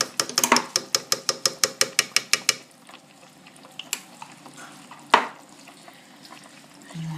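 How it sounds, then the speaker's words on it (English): Stewed beans with tomato paste being stirred in a pot, a quick series of about a dozen rhythmic spoon knocks against the pot, then quieter bubbling with one more sharp clink later. "And you want to stir this up."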